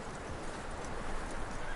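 Horse hooves clip-clop steadily alongside a whinny in the Red Dead Redemption 2 video game, a dense close mix with no talk.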